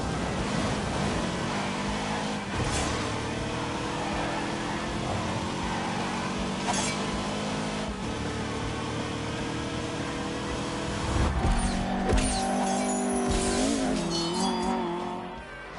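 A high-revving small car's twin-cam 1.6-litre engine buzzes and climbs through the gears, rising and falling in pitch as it accelerates past, with no talking.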